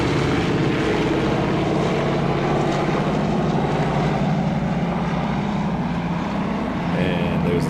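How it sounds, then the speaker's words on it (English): A C-47 transport aircraft in a flight-simulator flyby gives a loud, steady propeller engine drone that fills the whole stretch without fading. "Here's the transport section coming by and flyby and a break."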